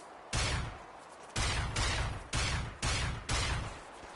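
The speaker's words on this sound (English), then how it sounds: "He's lucky that these shots are inaccurate with this gun a little bit." Five heavy gunshots from a gun in the Fallout 4 video game, fired at a slow, roughly regular pace, each a loud close blast with a short decaying tail, no voices over them.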